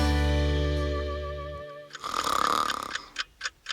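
Cartoonish snoring of the sleeping character Petit Poilu in an audiobook: a long, loud, low drawn-out inhale, then a bubbly exhale and a few short wheezy puffs, up close and with no talk over it.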